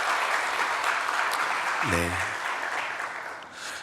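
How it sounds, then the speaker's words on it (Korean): Welcoming applause from a church congregation during a Sunday morning service, a broad steady wash of clapping that fills the room throughout, with a brief spoken word cutting in near the middle. "우리 환영의 박수 한번 치도록 하겠습니다"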